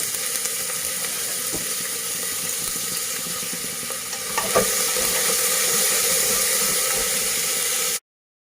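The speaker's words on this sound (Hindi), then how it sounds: "उसमें ऑयल डाल दिया है, अब मैं इसमें प्याज डालूंगी। पहले हम इसमें प्याज फ्राई करेंगे" Onions fry in oil in a pan over a medium flame, giving a steady close sizzle with a few soft stirring clicks; the sizzle grows slightly louder midway, then stops abruptly.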